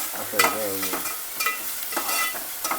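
Onions frying in oil and being stirred in a pan for a liver fry, a steady sizzle broken by repeated scraping spoon strokes, close and moderately loud with no talking.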